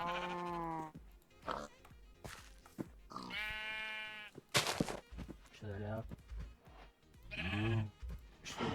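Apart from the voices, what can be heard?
sheep bleating in Minecraft video game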